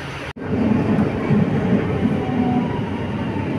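Milan Metro train, an M2 line service, rumbling steadily at close range with a continuous low roar and faint rail clatter after a brief dropout at the start; no talking.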